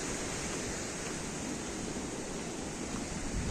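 A river stream flowing near a bridge, a dense, steady rushing wash that stays constant with no voices.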